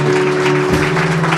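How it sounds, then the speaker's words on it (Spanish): A church congregation breaks into steady, dense applause during a Spanish-language sermon, the clapping filling the space evenly and loudly over a sustained low hum. "¿Cuántos aplauden al Señor por eso?"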